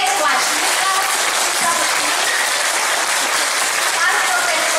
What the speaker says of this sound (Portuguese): uma calorosa salva de palmas para vocês do Agita